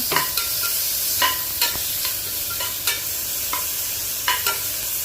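Chopped tomatoes with salt sauté in a pan for a coriander kurma curry, a steady close sizzle broken by repeated stirring knocks and scrapes of a spoon against the pan, with no talking.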